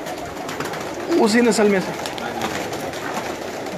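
Pigeons from the breed of a breeder of Sialkot give one short rolling coo near at hand, lasting under a second, while someone talks over a steady background hum.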